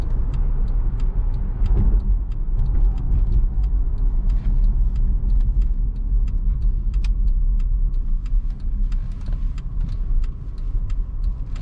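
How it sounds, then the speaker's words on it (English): A 2012 Mercedes GLK350 4Matic SUV accelerates on a road from inside the cabin: a steady low engine and road rumble with faint ticks and clicks throughout, no talk. "I'm gonna just do about half pedal. You can see it's got really good pickup."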